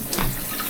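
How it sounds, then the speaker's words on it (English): Hot water runs steadily from a household tap, filled for a shower: a continuous close hiss and splash with no pauses. "I'm going to run the tap now."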